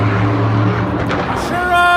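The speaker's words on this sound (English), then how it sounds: "And the engine gives out." A Monster Jam monster truck's engine roars loudly in a stadium, its steady rumble sagging and sputtering as it gives out, with crowd and arena noise and commentator voices over it.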